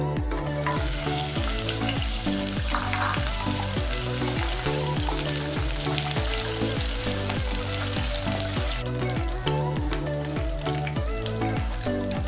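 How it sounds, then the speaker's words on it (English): Beef browning in hot cooking oil for a pilau gives a loud, continuous sizzle and spatter that runs throughout, over background music with a steady beat. "I want to brown my meat."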